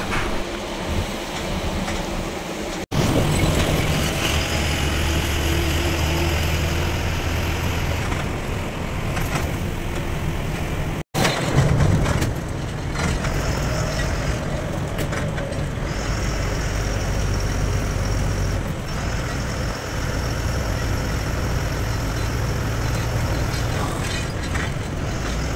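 Interior of an SETC BS6 bus overtaking on a highway, with a steady, loud low engine and road rumble that runs unbroken throughout, briefly cut by a couple of sharp dropouts.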